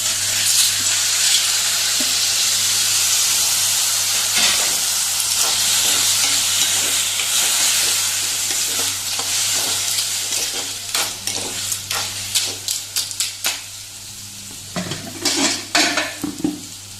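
Washed clams (tisreo) stir-fry with green chilli masala in a pan, first a loud steady sizzle, then sharper scraping and clinks as a metal spoon knocks and stirs against the pan.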